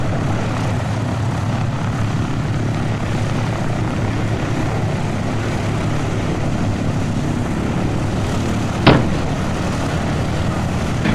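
A propeller airplane in Kerbal Space Program, flying and landing on the planet Eve, gives a steady droning engine hum that holds level throughout, with one brief sharp click near the end.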